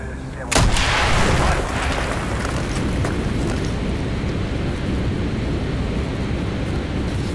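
A single loud, close blast in Call of Duty Black Ops blows a hole in a wall, followed by a long rumbling, crackling roar of debris and battle noise that fades only slightly over several seconds.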